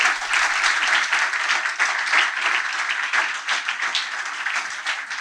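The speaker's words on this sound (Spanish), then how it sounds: "Alguien tiene que darle un aplauso a Dios por eso" A church congregation applauds during a Spanish-language sermon, a dense, steady wash of many hands clapping that fills the space evenly from start to finish without a voice on top.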